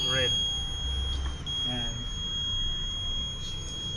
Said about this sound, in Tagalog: At nag-buzzer na po yung red.